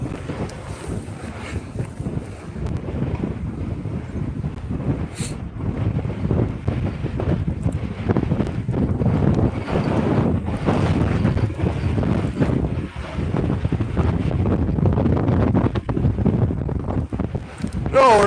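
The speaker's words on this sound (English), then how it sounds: "you watch it in this horrible wind" Strong, steady wind buffets an outdoor ice fishing spot, roaring low and constant across the microphone, with someone talking over it now and then.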